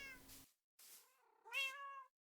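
A pet cat named Mrs. Norris in Minecraft gives two distinct meows separated by a short silence, each a bright harmonic cry, heard close and clean with no talking.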